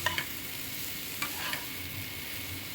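Poppy seed curry with kohlrabi and potato being stirred in a pan, a steady soft sizzle of frying under a few brief scraping strokes of the spoon, close and fairly quiet.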